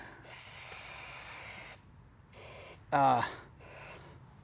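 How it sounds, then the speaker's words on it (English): Three bursts of aerosol spray grease hiss onto a 2023 KTM 300 XC motorcycle, the first long and steady, then two shorter ones, with a brief louder rattle between them. "I really like this spray grease."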